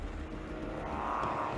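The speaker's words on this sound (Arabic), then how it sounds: "قفز المحرك فجأة." A boat engine runs steadily on a jungle river just after the boat struck a floating log, a low, continuous droning hum that swells slightly toward the end, with no voices.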